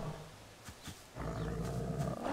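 A bear in the survival video game Subsistence gives a low, rough roar with a couple of short grunts, then a sustained loud growling roar, heard close with no talk over it.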